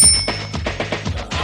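In a horror video game, a bicycle bell rings in a quick series of short, bright dings, close and clear over a faint background.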